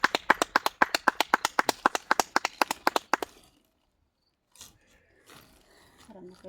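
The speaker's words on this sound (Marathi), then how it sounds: "जोरदार टाळ्या" A small group claps in unison at a congratulation ceremony for a future village sarpanch, about eighteen loud, rhythmic claps over three seconds, then near silence with faint voices and shuffling.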